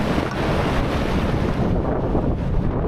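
Rough ocean surf pounds the Olympic Peninsula coast, a loud, continuous roar of waves mixed with heavy wind buffeting the microphone.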